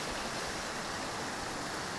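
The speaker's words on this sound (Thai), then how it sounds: "ลำธารหลังบ้านล่ะพี่น้องครับ" A stream behind a house running hard after heavy rain, making a continuous, even rush of water noise at moderate distance with no other sounds.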